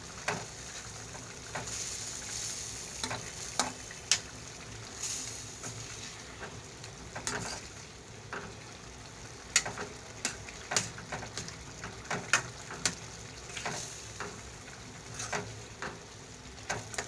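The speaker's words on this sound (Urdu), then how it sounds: "اچھی طرح سے بھونیں کڑھائی کو، جتنا زیادہ بھونیں گے اتنی ہی مزیدار کڑھائی بنتی ہے" Beef karahi frying in a wok while it is stirred, a steady low sizzle broken by frequent scraping and clinking of a spoon against metal, close and moderate in volume, no voices.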